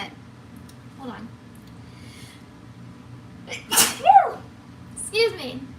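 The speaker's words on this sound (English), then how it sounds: "didn't want to sneeze on the cookies" A person sneezes once while baking cookies, a sharp burst standing out from a quiet kitchen backdrop with a few faint sounds around it.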